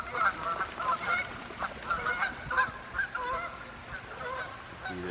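Several geese honk repeatedly as they pass overhead, loud, irregular calls spreading across the whole stretch, with no talking.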